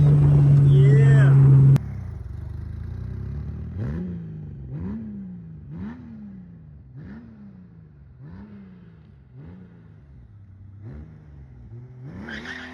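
A motorbike rolls over a series of dirt rollers on an old, loose-gripping front tire, its engine rising and falling in a steady rhythm of about nine surges after a loud opening burst, moderately close.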